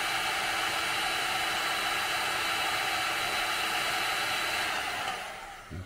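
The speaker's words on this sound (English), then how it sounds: "If you do use a heat gun, be really careful where you put it down" A heat gun blows a loud, steady hiss of hot air while heating heat shrink solder connectors, then winds down and cuts off near the end.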